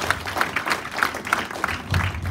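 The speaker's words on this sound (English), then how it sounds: "Please give a big round of applause." Brief applause at a workplace drug abuse prevention seminar, a loose patter of hand claps from a modest crowd, fairly close and steady over a couple of seconds.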